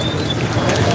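Rain falls at the Phong Châu pontoon bridge as a steady, dense hiss that is close and fairly loud, with no breaks for the whole moment.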